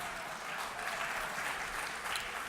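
Steady audience applause and cheering fill the room at a mock courtroom event before the prosecution's argument, a dense continuous wash of clapping with no gaps.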